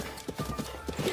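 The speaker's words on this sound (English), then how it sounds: "You can actually hit the enemies with the horse" A horse gallops in Zelda: Breath of the Wild, a quick rhythmic run of clip-clop hoofbeats, close and moderately loud over faint background game sound.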